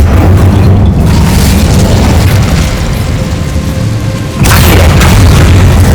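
The Incendio fire spell is cast in the video game Hogwarts Legacy, making a loud, booming burst of flame that roars continuously, then flares again in a second sharp blast near the end.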